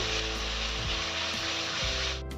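Ginger and garlic paste sizzles in a pan with sautéed onion for a Bengali doi rui fish curry, giving a steady, close, dense frying hiss under soft background music.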